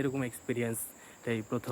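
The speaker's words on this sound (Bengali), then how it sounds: "দিনের বেলা সব সময় ঝিঝি পোকা ডাকে" Daytime cicadas or crickets in Sendai, Japan, a faint steady high drone running beneath a person talking.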